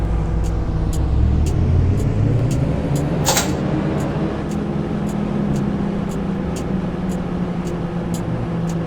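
An EMU electric train on Route 10 in a driving simulator game hums steadily as it runs, with regular light clicks and one brief whooshing burst partway through.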